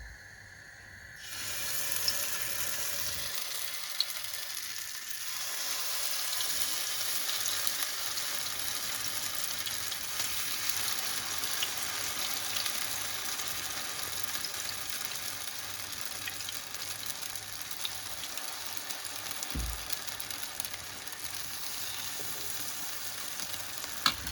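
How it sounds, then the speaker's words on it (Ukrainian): Ukrainian potato pancakes (deruny) spooned into a hot pan sizzle, a continuous close crackling that starts abruptly and holds steady, with a soft clink near the end. "звичайною столовою ложкою викладаємо на нашу розігріту сковороду наші деруни"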